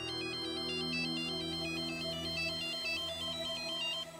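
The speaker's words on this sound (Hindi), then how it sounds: "आपका फोन" A mobile phone ringtone plays loudly and continuously as a repeating electronic melody over a musical backing in a television drama scene, with no voices.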